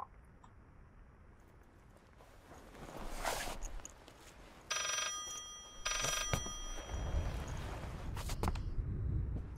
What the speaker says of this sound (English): The fucking phone!